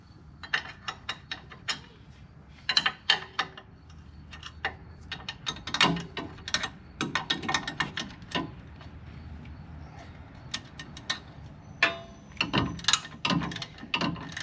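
Ratchet or wrench clicks and metallic clanks while 16mm bolts and nuts are loosened on the front suspension of a Mercedes Sprinter van during a shock install, in irregular close bursts with no talk.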